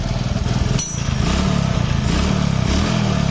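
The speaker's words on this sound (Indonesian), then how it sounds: "Dengerin di bagian mesinnya nih." A Honda Supra X 125 motorcycle engine idles steadily up close, a loud, even, throbbing run with a brief dip partway through and no talking over it.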